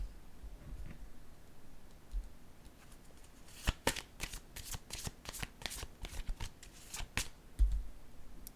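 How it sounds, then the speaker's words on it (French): Playing cards drawn and handled from a deck, heard as a close run of crisp flicks and snaps over about four seconds in an otherwise quiet room. "Attendez, je vais piger une autre carte."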